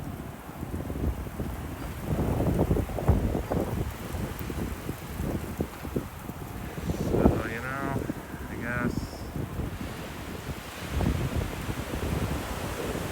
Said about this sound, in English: that was a 40-mile-an-hour gust right there